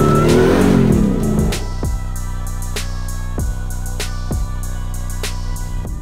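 A 2024 Ford F-150 Raptor R V8 engine at an off-road racing ranch, revving hard at first, then settling into a deep steady idle punctuated by sharp repeated throttle blips, loud and close with no talking.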